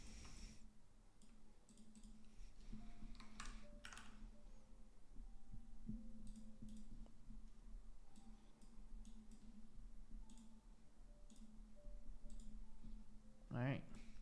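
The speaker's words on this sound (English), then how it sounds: "Okay, let me type that out." Faint, sparse clicks of typing on a computer keyboard come irregularly over a low steady hum in a quiet room.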